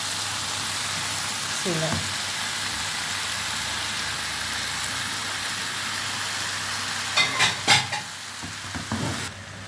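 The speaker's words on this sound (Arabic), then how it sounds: "بعد ما حطيت البطاطس والخضره على التومه هننزل بالجمبري." Shrimp are added to a pan of potatoes, vegetables and garlic and fry with a steady loud sizzle, with a brief remark early on and bursts of crackling and stirring near the end.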